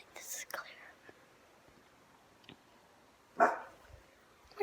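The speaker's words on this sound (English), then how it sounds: "Oh my gosh, stop barking." A dog barks a few times indoors, in brief, scattered bursts with quiet gaps between them and one louder bark near the end, while a person whispers.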